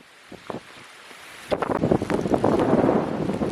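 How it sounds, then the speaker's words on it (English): Strong wind buffets the microphone in loud, rumbling gusts that build and stay heavy on a mountain track, with no voices. "It's just so windy, so windy."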